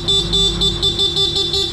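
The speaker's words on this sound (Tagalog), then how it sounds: "Busina natin, stock horn." Stock horn of a Honda ADV160 scooter sounding in a steady close blare with a faint rhythmic pulsing through its short length, loud and alone with no talk.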